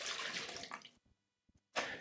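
Tepid water is poured for pizza dough in a home kitchen: a strong splashing pour that stops abruptly, a few small drips, then a second short pour.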